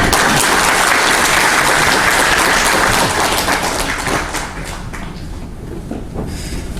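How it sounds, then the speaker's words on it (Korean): Congregation at a church ordination thanksgiving service giving a loud round of applause, dense clapping for several seconds before gradually thinning and fading toward the end. "박수 한번 주세요."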